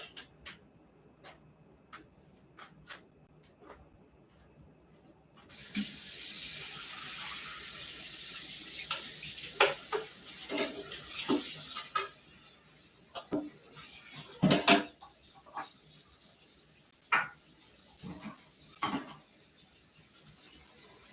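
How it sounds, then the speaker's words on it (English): Sink tap running as a pot and bowl are washed, with a steady rush of water starting partway through and scattered clinks and knocks of the dishes over it, fairly quiet and with no talk. "I'm gonna wash my pot out, my bowl out"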